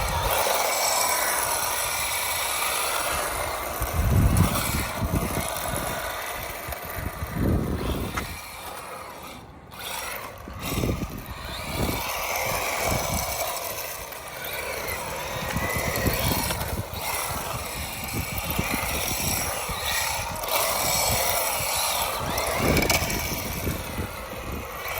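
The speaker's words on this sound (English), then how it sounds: "You can actually drift the H16BM." A lightweight MJX Hyper Go H16BM RC car drifting, its electric motor whining steadily with scrabbling tyre and gravelly surface noise rising and falling in bursts over about twenty-five seconds, no talk.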